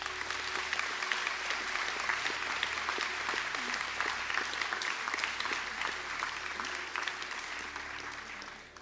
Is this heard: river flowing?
no